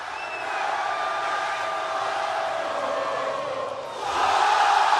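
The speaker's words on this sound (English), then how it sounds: "That is the crowds like singing the theme song after the music ends." Large wrestling arena crowd singing a theme song together after the entrance music stops, a sustained chorus of many voices with cheers and whoops, louder and fuller in the final second.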